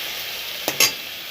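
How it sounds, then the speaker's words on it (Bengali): Chopped tomato hits a hot frying pan and is stirred, giving two quick scraping stirs over a soft, steady sizzle, close and quiet. "এরপর দিয়ে দিচ্ছি কুচনো টমেটোটা, দিয়ে একটু নেড়ে চেড়ে"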